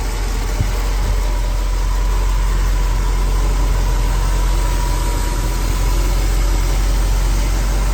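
A 1976 Ford F-150 short bed with a 360 V8 and 4-speed idles steadily up close, a continuous low rumble with no other sounds.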